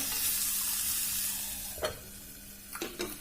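Vegetables cooking in a covered pan for a Kerala vegetarian lunch, sizzling steadily with a high hiss, broken by a few brief scraping stirs near the end and no talking.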